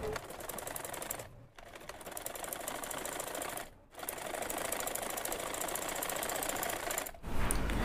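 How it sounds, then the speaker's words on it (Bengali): A sewing machine runs a half-inch seam joining a kameez sleeve at the shoulder, a loud rapid needle clatter in long continuous runs broken by two brief pauses and a stop near the end. "এখন আমি 1/2 ইঞ্চি করে সেলাই করে যাব।"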